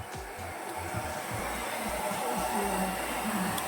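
A hair dryer blows with a steady, loud, broadband whoosh throughout, close by and continuous, at home in the UK.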